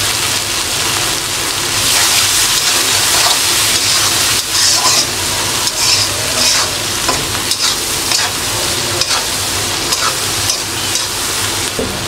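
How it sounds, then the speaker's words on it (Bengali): Mashed dried fish with garlic, green chili, salt and turmeric fries in a pan with a loud, close, continuous sizzle. Stirring scrapes recur throughout, and no one talks. "আমি একটু ভাজা ভাজা করে নিচ্ছি।"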